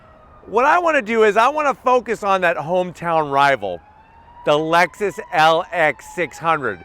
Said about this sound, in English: So you can hear the sirens going off.